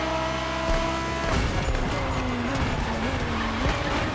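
Ivory Tower Aezus GT driven in the video game The Crew Motorfest: a steady engine drone whose pitch rises and shifts through gear changes, with some tire noise, continuous and fairly loud throughout.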